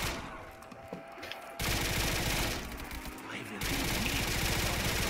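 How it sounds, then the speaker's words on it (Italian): Light machine gun fire in Call of Duty Black Ops 3 zombies on a custom map, rapid loud bursts in two long stretches separated by a quieter pause with game ambience. "Erano due mitragliatrici leggere"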